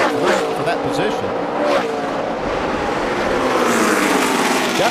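NASCAR stock cars roar past while three of them battle for position at the 2011 Wonderful Pistachios 400, with loud passing engine sweeps and a brief tire squeal under continuous commentary.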